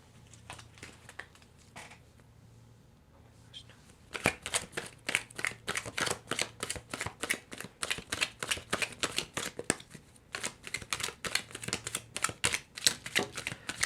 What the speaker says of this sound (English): I'm going to pull some tea leaf cards to finish the reading